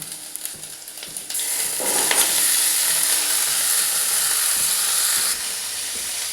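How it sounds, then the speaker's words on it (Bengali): Chopped onion and pointed gourd fry in an oily pan with a steady, close sizzle that swells louder after the first couple of seconds and holds, with no voices. "পেঁয়াজটা একটু ভেজে নিচ্ছি এবং পটলটা একবারে সুন্দর করে লালচে করে ভেজে নিলাম"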